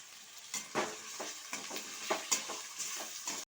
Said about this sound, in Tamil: அடுத்தது சிக்கனை சேர்த்திக்கலாங்க. இதே ஒரு 5 நிமிஷம் அப்படியே வதக்கலாங்க.